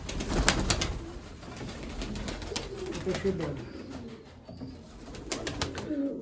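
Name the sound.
pigeons cooing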